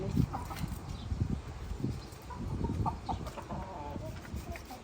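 Chickens cluck and murmur in a rural yard, a loose run of short clucks at moderate distance with a person talking now and then.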